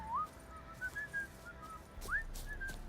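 A game character in The Witcher 3 whistles a short tune in a few gliding, clear notes, faint and fairly close over quiet background ambience.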